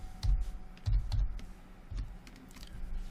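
Computer keyboard typing, a few close, distinct bursts of key clicks in an irregular rhythm with short pauses between, quiet room, no talk.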